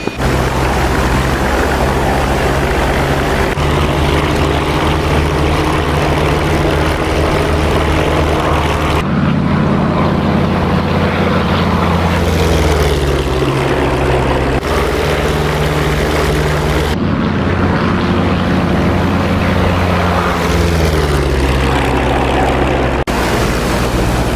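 Propeller airplane in the DCS combat flight simulator taking off down a runway, a loud steady engine drone that rises and shifts in pitch as power builds, continuous throughout with no talk over it.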